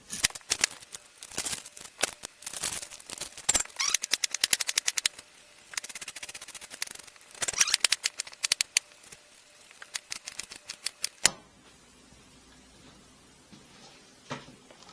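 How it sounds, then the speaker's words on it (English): An onion diced with a knife on a cutting board in a kitchen, heard as a run of rapid, sharp chopping taps in fast bursts, close and fairly loud, which stop near the end, leaving quieter room sound. "We're going to dice an onion."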